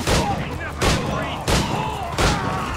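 Ship cannons firing from a brig in Assassin's Creed 4 Black Flag naval combat, four heavy booming volleys spaced about every three quarters of a second, loud and close over a continuous rumble of sea and battle.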